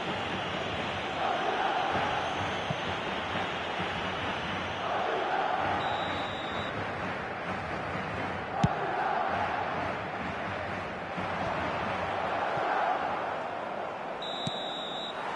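Stadium crowd in the football video game eFootball 2023, a constant dense roar with swelling chants and a few sharp whistle-like peaks, loud and unbroken throughout.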